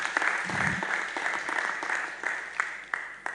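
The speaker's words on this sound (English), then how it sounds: "let's clap more, please." Audience clapping at a professional gathering on corporate governance, a sustained patter of hands in a room with a few sharper claps standing out, moderately loud.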